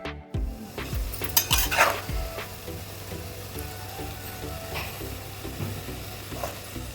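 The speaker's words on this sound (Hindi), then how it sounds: "उसके बाद गोभी डाल दी है फ्राई होने के लिए, तो गोभी को फ्राई कर लेते हैं।" Cauliflower frying in a pan with potatoes, a steady low sizzle with occasional scrapes and clinks of a utensil against the pan, continuous and fairly close, no talking.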